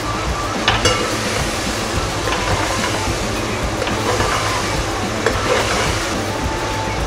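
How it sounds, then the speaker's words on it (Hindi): Chicken fries with garlic-ginger paste for Hyderabadi chicken biryani, giving a loud, steady, close sizzle with occasional stirring scrapes and no voices. "इसमें लहसुन अदरक का पेस्ट शामिल करेंगे, इसको भी भून लेंगे। 1-2 मिनट तक हम इसको भूनेंगे।"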